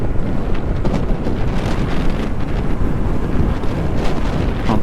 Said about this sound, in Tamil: செம்ம காத்தடிக்குது.